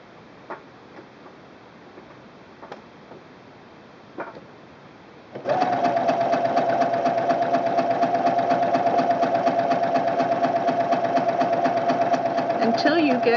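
A sewing machine stitches forward along the side of an extra large buttonhole, starting after a few quiet clicks and settling into a steady, fast, even mechanical whir with rapid ticking that runs unbroken to the end, close and clear.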